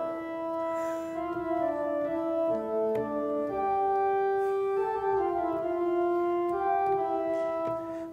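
Pipe organ playing the main theme of the toccata from Rheinberger's Organ Sonata No. 14, a rising scale of sustained notes at steady volume in a recital setting, heard alone with no talk.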